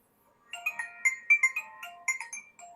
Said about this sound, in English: let's quickly listen to the classic Nokia ringtone it came with